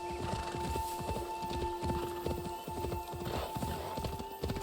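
A horse gallops at steady rhythm in the video game Assassin's Creed Shadows, hoofbeats loud and close with a whinny over a constant ambient tone, no speech.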